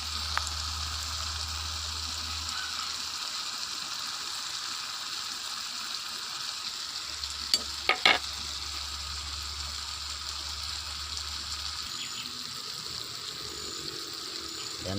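DIY tinapa catfish cooking in a pan, a soft steady sizzle with low hum underneath and a couple of brief clinks partway through.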